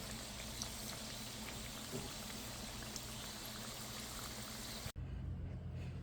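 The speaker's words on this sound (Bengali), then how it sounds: "এভাবে আমি সব পিঠাগুলো ভেজে নেব।" Chicken and vegetable pitha frying in oil, a dense, even bubbling hiss that holds steady and close for several seconds, then cuts off briefly near the end and resumes more faintly.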